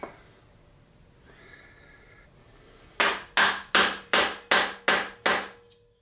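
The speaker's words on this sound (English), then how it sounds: "Need a hammer." Hammer blows on wood while building a hummingbird house: seven loud, evenly spaced sharp strikes in a steady rhythm, close by, after a few seconds of quiet room noise with a faint hum.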